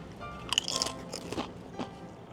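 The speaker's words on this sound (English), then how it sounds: "The crunch and saltiness of the tortilla chip, so good." Crisp crunching as someone bites and chews a salty tortilla chip beside chili, several sharp close-up crackles in a quick cluster, then softer chewing.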